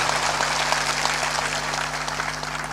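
Applause from an audience at a Hindi spiritual discourse, a dense, even patter of many hands clapping at moderate volume over a low steady hum, continuous with no pauses.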